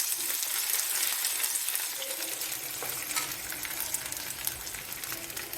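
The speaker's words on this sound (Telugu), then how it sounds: "పోపు ఎగిపోయిందండి." Mustard-seed tempering crackles and splutters in hot oil in a home kitchen pan while jackfruit curry is prepared, a steady dense sizzle with scattered sharp pops, close and moderately quiet, no voices.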